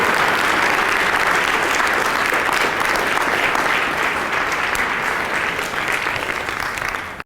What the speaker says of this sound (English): Let's stand up and give him a round of applause.